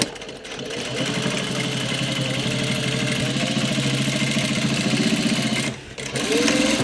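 A sewing machine stitches a flat fell seam on a pair of dungarees with a steady, close motor whir. The whir breaks off briefly near the end, then starts again.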